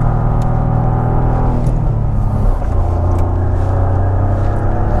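A tuned Toyota Yaris GR making about 320 hp, set up for time attack with a short shifter, runs hard on a dynamometer. Its engine drones loud and close throughout, with the pitch dipping briefly midway.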